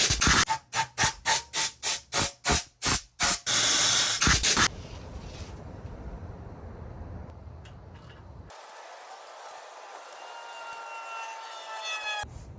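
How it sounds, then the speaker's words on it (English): An air nozzle fires about a dozen sharp, loud hissing bursts into a car intake manifold in quick rhythm, then a longer steady blast, followed by quieter workshop hiss and faint clinks. "just kind of blow it out with some air"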